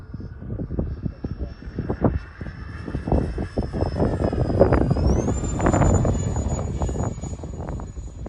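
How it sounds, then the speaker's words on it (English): High wind blows outdoors on a windy day with a model aircraft flying, heavy buffeting gusts and rumble throughout, while a thin steady engine whine holds in the background and rises in pitch partway through. "Got some pretty high winds today."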